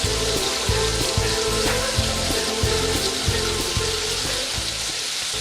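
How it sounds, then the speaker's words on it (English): Turkey meatballs fry in a pan with a steady, dense sizzle and crackle that runs evenly throughout at close range, with no voices over it. "So now that your meatballs are frying up,"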